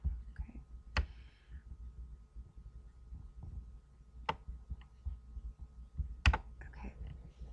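Computer mouse clicks while working in design software, a few sharp isolated clicks spaced irregularly over quiet background hum, with faint low rustling between them.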